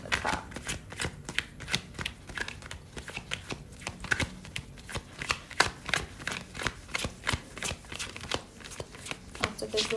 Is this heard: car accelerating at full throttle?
no